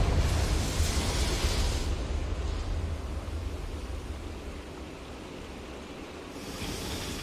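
A fiery Confringo blasting spell erupts in Hogwarts Legacy as a loud, broad roaring rush that swells at the start and slowly fades into a lingering rumble, with a fresh burst of noise near the end; no one talks.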